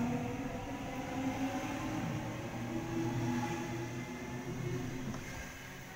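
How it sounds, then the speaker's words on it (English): A commuter train pulls away from a platform at Werrington station, a steady rumbling roar with rail noise that holds loud and close throughout, with no talking. "Here departing from platform number 2, Penrith service, next stop Kingswood, then Penrith where the service will terminate."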